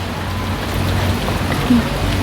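Heavy rain pouring steadily at a school in Bokeo province, Laos, a loud, even hiss of water with a low rumble underneath.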